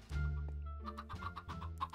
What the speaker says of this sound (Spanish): ¡Gallinas de la suerte! Vengan, gallinas.